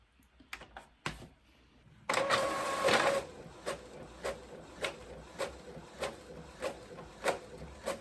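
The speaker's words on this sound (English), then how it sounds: "I'm gonna go ahead and print." An inkjet-style printer runs a sheet of custom tissue paper through, starting with a few clicks and a whirring feed burst, then settling into steady rhythmic print-head passes, close and moderately loud.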